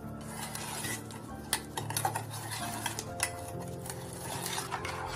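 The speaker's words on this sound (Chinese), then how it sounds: "拿出一勺氢氧化钠，加入母乳冰，轻轻的搅拌" A spoon scraping and clinking in a container as sodium hydroxide is stirred gently into frozen breast milk, with scattered light taps and clicks over a steady background hum, no talking.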